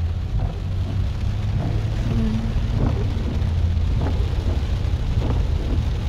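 Heavy rain on a rainy day with traffic moving slowly, a steady loud wash of rainfall and low rumble, with a few faint distant thunder-like rolls underneath; no talking.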